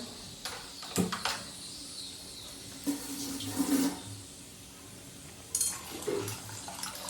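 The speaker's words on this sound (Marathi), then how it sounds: "ह्याच्यावरती पाणी टाकून ना चाळणीवर जे काय राहिलं होतं डाळीचं ते पण असं धुवून घेतलं" Warm water splashes and trickles in short bursts over lentils in a sieve, poured in a few separate pours with quiet pauses between.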